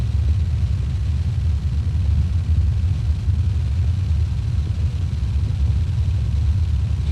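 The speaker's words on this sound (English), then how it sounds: "you hear that gravel sound?" Steady low rumble of a truck rolling over gravel in Euro Truck Simulator 2, a continuous dense crunching drone at even loudness with no talking.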